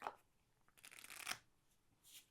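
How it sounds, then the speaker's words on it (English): Cards from a Spirits of Christmas deck are riffle shuffled, with a soft initial flutter and then a dense, louder burst of rapid card snaps, followed by a brief rustle as the deck is squared. "riffle shuffle and be done with it"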